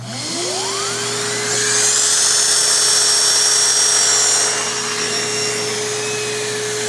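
A Hoover Windtunnel Plus S3639 canister vacuum cleaner switches on and spins up with a rising whine. It then runs as a loud, steady, close motor drone with a high airflow hiss, and no one speaks.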